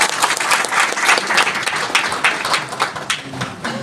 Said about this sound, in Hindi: हमारे गुरुजी के लिए एक बार जोरदार ताली होनी चाहिए